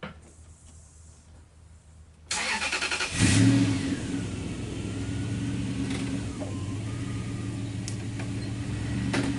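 A Stickler log splitter's engine, starting quiet, then catching and revving sharply before settling into a steady, fairly close mechanical idle drone that runs to the end, with no speech.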